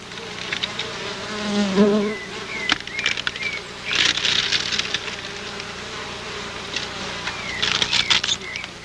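Stingless bees buzz steadily around a hive box, a dense close hum with scattered tapping and knocks from the box.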